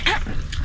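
A single short dog bark or yip, close and fairly loud, with faint voices in the background.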